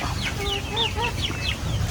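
Month-old chicks and young chickens in a new range area on a Filipino poultry farm give repeated short, rising chirps and clucks, close and clear over a steady low background rumble.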